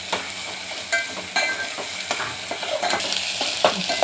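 Tomato and onion frying in a pan, loud close sizzle with frequent spatula scrapes and stirs at an irregular rhythm, no speech.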